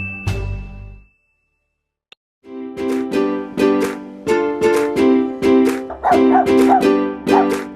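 Dogs at Windyway Kennels, a cat, dog and rabbit rescue in Macclesfield, bark in repeated yapping bursts after a short quiet gap, loud and close, with a whimper at the start.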